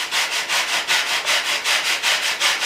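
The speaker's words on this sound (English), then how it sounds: "I see that this needed to be filed down a little bit more" A hand file rasps rhythmically over a part being trimmed to fit before screws go in, about a dozen even back-and-forth strokes, close and clear with no talk.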